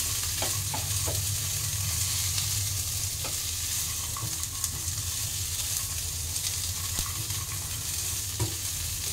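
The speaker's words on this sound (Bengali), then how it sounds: "আলু, বাদাম, নারিকেল, মটরশুঁটি সবগুলো আমার সুন্দর করে ভাজা হয়ে গেছে।" Potatoes, peanuts, coconut and peas fry in a pan with a steady, dense sizzle, punctuated by intermittent scraping taps as a spoon stirs them.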